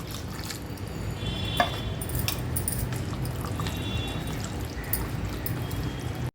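Rinse water from a mixer jar pours steadily into a pot of tripe curry with black-eyed beans, a continuous close trickle and splash with a few faint clinks, no talking.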